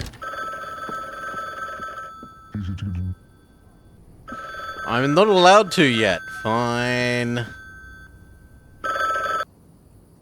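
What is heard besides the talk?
telephone ringing in The Bookwalker: Thief of Tales video game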